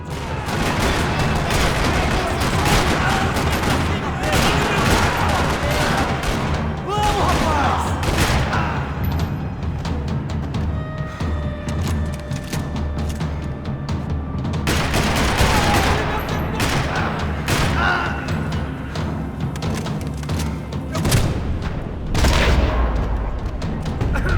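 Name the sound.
gunfire in a video game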